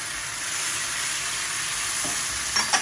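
Pad Thai sauce being stirred in a pan as vinegar goes in, giving a steady close sizzle and hiss with a few soft scraping clinks near the end.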